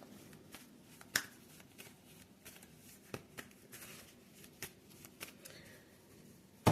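Tarot cards are shuffled by hand close up, a soft riffling and papery slapping with scattered sharp taps and flicks at an irregular pace, fairly quiet and with no talking.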